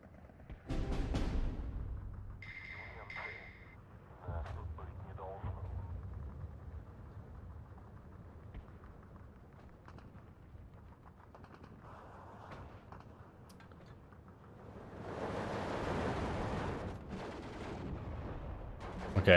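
Mortar fire in the Steel Division 2 battlefield game: scattered heavy booms and crackling impacts over a low battle rumble, with a longer, louder barrage swelling near the end.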